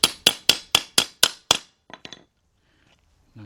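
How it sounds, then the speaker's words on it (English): A brass hammer knocks a part out of the rear brakes of a 2000 Isuzu Rodeo 3.2 during a rear brake shoe job: seven sharp, close metallic strikes in a steady rhythm, then a few lighter taps, with no talking. "make sure you're using a brass hammer"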